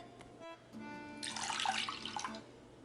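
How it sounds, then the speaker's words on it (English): Half a cup of cold water poured into dissolved orange jello, a steady close splashing stream that swells in the middle and tapers off, with no talking. "I'm going to add in half a cup of cold water."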